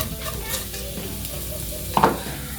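Strogonoff ingredients sauté in a pan until golden, with a soft continuous sizzle and a brief stirring scrape near the end.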